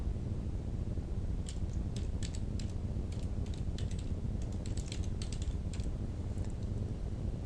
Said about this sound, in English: let's hit the Enter key